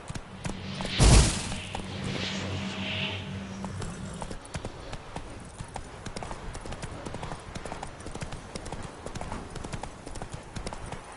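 A horse's hooves pound along in The Witcher 3 video game, a steady rapid clip-clop that follows one heavy thump near the start and continues at a moderate level.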